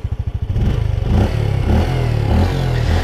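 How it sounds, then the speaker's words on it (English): A Yamaha PG-1 motorcycle engine starts with rhythmic chugging pulses, then settles into a loud, deep, throbbing exhaust rumble close by. "There's a nice deep exhaust sound"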